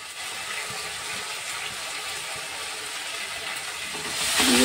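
Ground turmeric, salt, Kashmiri chilli, coriander and cumin powders sizzle in hot oil for yogurt chicken, a continuous close hiss that grows louder toward the end as stirring starts.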